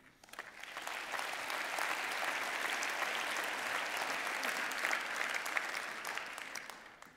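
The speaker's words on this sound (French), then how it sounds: "je vous propose de les applaudir" Conference audience applauding its partner organisations at a professional forum, a sustained wash of clapping from a large crowd that swells in quickly and holds steady for several seconds before tapering off.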